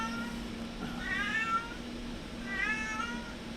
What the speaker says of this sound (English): And you can hear the kitty cat.